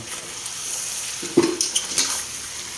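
Chicken stirred in a cooking pan, a spoon scraping and knocking against metal in several short strokes over a low steady sizzle.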